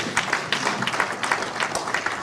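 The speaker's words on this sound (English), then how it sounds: "Give them a round of applause." Audience applause for panelists at a policy forum on Uganda's state of the nation, a steady wash of many hands clapping throughout, fairly close and without talk.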